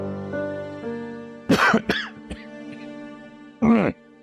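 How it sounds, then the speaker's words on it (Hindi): A man in a television drama coughs in short, harsh bursts, two close together near the middle and one more shortly after, clearly audible over a steady background tone with no talking. "खांसी क्यों हो रही है?"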